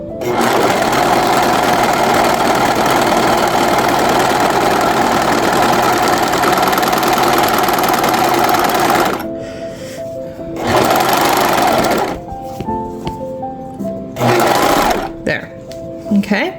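A sewing machine stitches a seam with a loud, steady motor whir for about nine seconds, then runs in shorter bursts separated by pauses in which a person talks.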